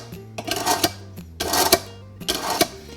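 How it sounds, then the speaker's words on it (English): A kitchen knife is pulled through a countertop sharpener three times at an even rhythm. Each stroke gives a close, rasping metallic scrape with short quiet gaps between them. "Before we get started, we always want to sharpen our knives."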